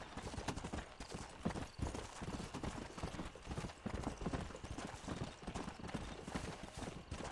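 Horse hooves gallop in a rapid, continuous rhythm in the Red Dead Redemption video game, loud and close throughout, with no talking.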